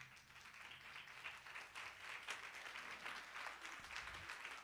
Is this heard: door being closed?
no